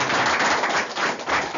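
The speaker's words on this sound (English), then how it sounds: "Let's give him a big round of applause." Applause from an audience at a Bhakti School gathering in New York City, a dense, steady wash of many hands clapping that holds loud and close for nearly two seconds.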